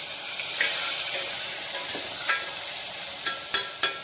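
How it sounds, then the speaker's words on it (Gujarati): A spoon stirs chilli-garlic paste and red chilli powder in a hot pan for moong dal, giving a soft sizzle with a few sharp scraping clicks at irregular intervals. "હવે આપણે હલાવી દઈશું"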